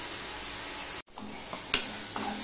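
Onion, ginger and garlic paste frying in a pan for Mughlai paratha: a steady sizzle broken by a brief pause and a few soft stirring clinks, heard alone without talk.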